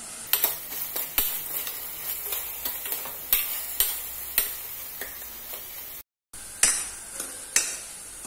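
Curry leaves go into a cooking pan for snake gourd kootu dal sambar, setting off a close sizzle with sharp ticking spatters and utensil taps at irregular intervals, interrupted by a short gap.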